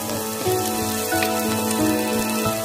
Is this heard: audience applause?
no